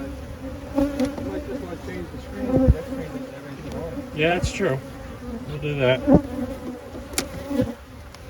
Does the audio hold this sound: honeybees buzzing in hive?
yes